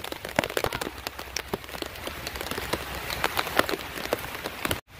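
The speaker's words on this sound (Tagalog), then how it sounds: "Ang lakas ng ulan ha." Heavy typhoon rain pours down steadily, with sharp drops pattering hard on a nearby surface throughout; no voices are heard.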